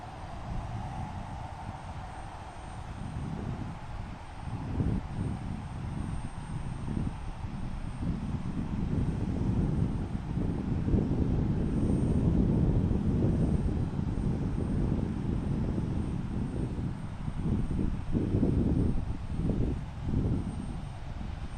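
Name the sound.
British Airways airliner arriving at Portland airport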